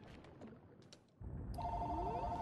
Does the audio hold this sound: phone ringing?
yes